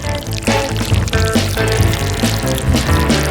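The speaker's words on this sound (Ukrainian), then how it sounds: "відрізаємо куточок від упаковки і виливаємо шоколад у нашу чашу" Melted Milky Way chocolate poured from a cut corner of its wrapper into a bowl, a short, steady close-up pour lasting a few seconds.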